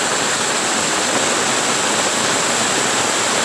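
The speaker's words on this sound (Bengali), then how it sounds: "এই পাহাড়ের উপর দিয়ে বৃষ্টির জল আসছে" Heavy rainwater rushing down a hillside after rainfall in Tura, Meghalaya, a steady, loud, broadband roar like a waterfall that holds unbroken from start to finish with no voices.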